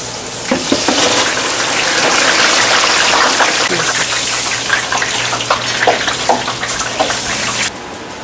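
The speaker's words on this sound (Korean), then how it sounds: "스테이크에 함께 곁들일 감자를 튀기도록 하겠습니다." Oil crackles and sizzles steadily as potatoes deep-fry, a dense, busy bubbling that stays loud throughout before cutting off near the end.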